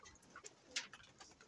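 Soft cooing from a pet pigeon or dove, brief low murmured calls spread across a short quiet stretch, faint and close.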